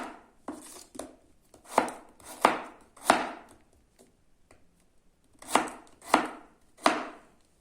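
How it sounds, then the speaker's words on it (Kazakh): A knife chops radish on a cutting board while a cabbage salad is prepared, with sharp, distinct thuds coming in irregular bursts and short pauses between them, close and clear with no talk. "Келесі кезекте редискамызды да дәл солай етіп кесіп шығамыз."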